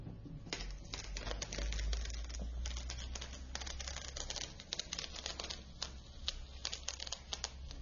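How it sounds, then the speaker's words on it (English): Transfer paper peels slowly back from vinyl graphics on a wall, giving a close, quiet and steady run of crinkly crackles and ticking snaps. "just slowly peel back your paper to make sure that you don't pull up any of your vinyl"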